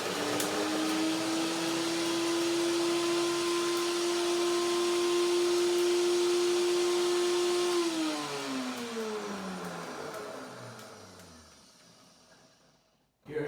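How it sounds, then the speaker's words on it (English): A blender grinding walnuts into flour whirs at a high steady pitch close by, then winds down in a falling whine as the motor stops, ending in near silence. "So, but first I have to blend the walnuts into a flour."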